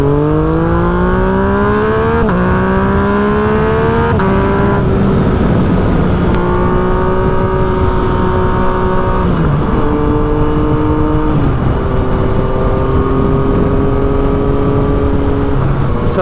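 Yamaha FZ-09 motorcycle engine heard while riding, a loud, steady exhaust drone whose pitch rises and drops with several gear shifts, running continuously on its own without talk.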